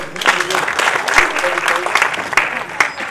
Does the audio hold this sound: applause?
yes